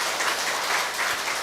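Dense, steady clapping from a crowd at a church district gathering, a continuous burst of many hands lasting just over a second, loud and filling the space with no voices over it.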